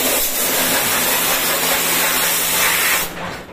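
A blower used to clean an air-conditioner indoor unit mounted close to the ceiling gives a loud, steady rushing hiss that runs continuously, then drops off sharply near the end.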